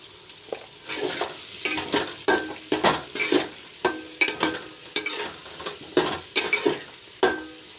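Fried potatoes stir-fried in a pan with turmeric and chili powder: a steady, close sizzle broken by repeated scraping and clinking strokes of a spatula against the pan.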